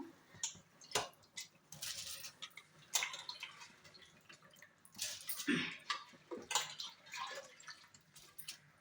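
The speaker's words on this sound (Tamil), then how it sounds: "இங்கே பாருங்கள் ஃப்ரெண்ட்ஸ், நல்லா கொதிக்குது." Water at a rolling boil in a pot, before rice is added, with irregular pops and gurgles over a steady hiss, close by and fairly quiet.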